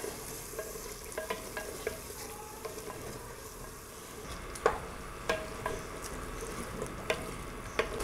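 Boiled mutton frying in masala in a pot for a Wariyan gosht qorma, with a low steady sizzle broken by scattered scraping and stirring clicks, close by and without talk.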